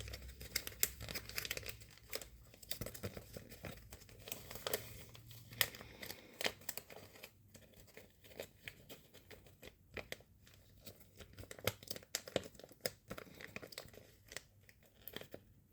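Paper seed packet being folded and handled, with close, quiet crinkling, rustling and crisp snapping of paper in irregular bursts throughout.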